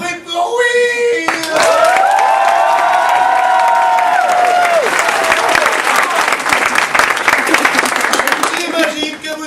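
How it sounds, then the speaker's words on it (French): A school audience at a back-to-school event breaks into loud, sustained applause with cheering, whistles and shouting voices. The dense clapping continues strongly for several seconds. "Faites du bruit pour Will!"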